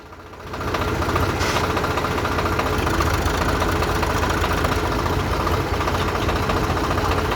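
A tractor engine idles steadily and loudly after a quick start, its low chugging rumble and knocking vibration continuing without a break.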